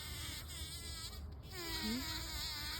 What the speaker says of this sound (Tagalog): Honeybee yata yan.